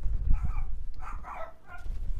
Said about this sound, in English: my dogs are barking for no reason